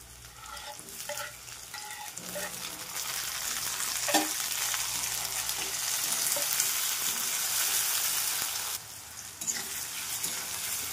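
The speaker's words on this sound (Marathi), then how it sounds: "चला फ्राय करणार, कांदा ही गुलाबी झालेला आहे, त्यासोबतच आपण टोमॅटो टाकणार।" Onion and tomato fry in hot oil in a pan, giving a loud continuous sizzle with stirring scrapes and clacks, the hiss swelling then dropping briefly near the end.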